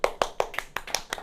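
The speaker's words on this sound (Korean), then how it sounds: "박수!" Students in a chemistry class clap together, seven sharp, evenly spaced claps in a quick steady rhythm, close and fairly loud with no talking.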